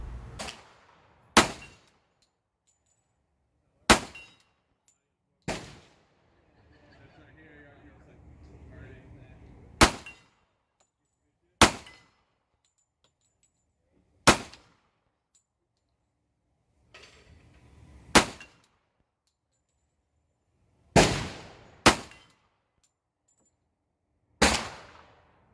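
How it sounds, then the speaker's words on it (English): Ten sharp, loud gunshots from full-power 10mm ammunition fired through pistols at a 50-yard steel plate on an outdoor range, spaced irregularly a few seconds apart, with brief low rumbling and faint background noise between some shots. "I went on to shoot several more rounds of full power 10mm ammunition through both pistols"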